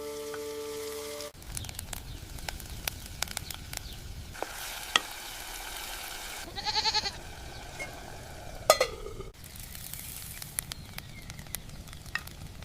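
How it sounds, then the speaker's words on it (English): Fresh onions browning in a pan over a clay stove fire in a village kitchen, a quiet steady sizzle broken by a few light metallic clinks and stirring sounds. "First, we add the fresh onions and let them brown over the fire."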